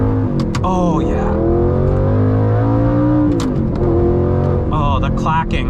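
A gated manual shifter clacks through the gears as the car accelerates; a few sharp metallic clicks land between loud, rising and falling engine revs.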